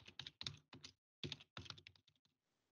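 Typing on a computer keyboard while entering a document title: short bursts of quick, crisp key clicks, close and fairly quiet, with a pause in the middle before a final run of taps.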